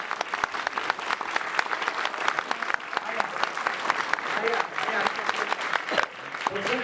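Audience at a stage benefit evening breaks into sustained applause, thick rapid clapping filling the room for several seconds, with some voices underneath.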